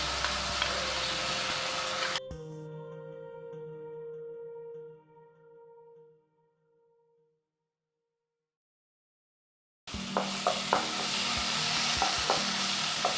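Ginger garlic paste sizzles as it hits hot oil in a pan for bhindi masala, giving a loud frying hiss, then a clanging metallic ring that fades to silence before strong sizzling and stirring return.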